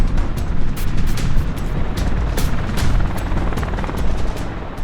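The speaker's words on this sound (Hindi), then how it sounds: "बोइंग द्वारा निर्मित ये हेलीकॉप्टर" A Boeing Apache attack helicopter thunders close and loud, its rotor blades slapping in a fast, steady rhythm over a heavy turbine rumble, with no voices.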